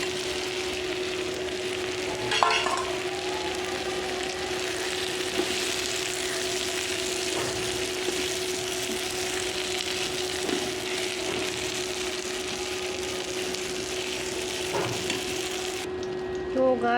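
Spiny gourd (kakrol) fries and is stirred in a tomato spice masala, giving a steady, close sizzle with a few soft scrapes from the stirring and no talking.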